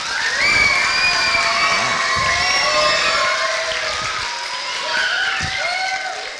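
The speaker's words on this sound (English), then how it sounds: "Give fourth grade a round of applause again." Audience applause and cheering for fourth grade performers at a school international day music show, loud and continuous, with children's shouts and whoops mixed through the crowd.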